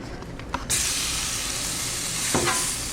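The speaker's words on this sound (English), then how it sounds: "We're going to go down with our squash and zucchini, which really just needs to be heated up" Squash and zucchini sizzle loudly on a hot Blackstone griddle at a campsite, a dense steady hiss after a few light scraping taps, with another scrape near the end.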